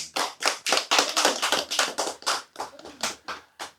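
An audience claps in a burst of roughly a dozen loud, slightly uneven claps over a few seconds, close and with no talk over it.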